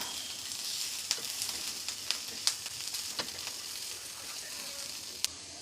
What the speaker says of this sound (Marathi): आता आपण याच्यामध्ये टाकूया थोडीशी दालचिनी थोडेसे धणे आणि हे आपण थोडंसं हलकंसं भाजून घेऊया